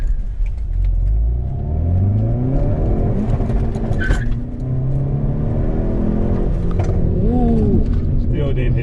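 A 2019 Hyundai Veloster N with a manual gearbox accelerates hard, its engine note climbing in steady loud sweeps with a break for a shift, while people talk over the cabin rumble.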